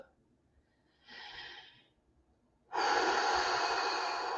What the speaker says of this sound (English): Let's start by taking a deep breath.